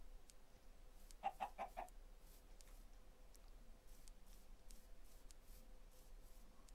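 A short burst of four quick chicken clucks from Minecraft chickens, fairly faint, followed by softer scattered clicks and footsteps over a low background hum.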